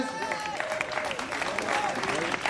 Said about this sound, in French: ça mérite des applaudissements s'il vous plaît